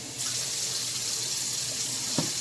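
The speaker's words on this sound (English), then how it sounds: "So I'm using some hot water." Hot water runs steadily from a kitchen tap into a sink or pan for thinning gravy, a constant close hiss with a brief clink near the end.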